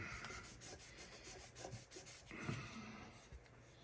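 Quiet, steady scratchy rubbing of sandpaper over dried putty along a seam line, in short repeated strokes, close up with no talking.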